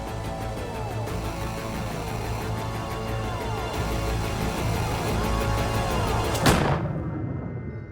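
A gunshot fired with the muzzle held flat against a sleeping man's skull, in a crime reenactment: one sharp, loud shot near the end over low rumbling ambience, then abrupt silence.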